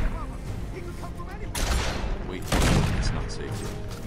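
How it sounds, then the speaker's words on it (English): Shotgun blasts in Batman: Arkham Asylum, two heavy bursts about a second apart standing out over a dense, noisy game mix with talk underneath. "He's got a shotgun."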